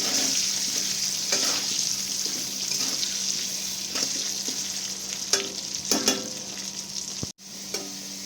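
Potatoes with Kashmiri chilli fry in oil, a steady close sizzle punctuated by a few sharp clinks and scrapes of stirring, with no talk.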